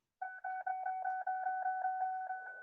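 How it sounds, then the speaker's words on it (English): An Apple Newton device gives a rapid string of short electronic beeps in a steady, even rhythm, clear and close against silence. "Who's beeping with his Newton?"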